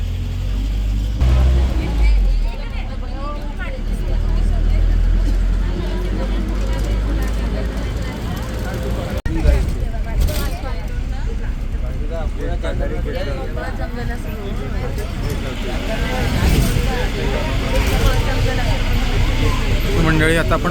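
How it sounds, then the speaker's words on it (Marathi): Safari vehicle driving through Nehru Zoological Park in Hyderabad, a steady engine rumble and road noise throughout, with someone talking over it and people chattering nearby. "आपली गाडी चालू झालेली आता इथून आपली सफारीची राईड चालू होते"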